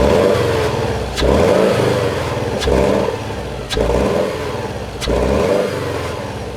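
A Subaru Impreza with its stock intake air muffler still fitted, revved repeatedly from idle, giving four or five loud, close throttle blips that rise and fall in a regular rhythm over a rumbling idle.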